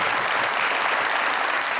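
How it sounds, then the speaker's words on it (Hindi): Studio audience applause at a Pakistani comedy show, a dense, steady burst of clapping that fills the short moment at an even level. "इनके लिए बहुत सारी तालियां।"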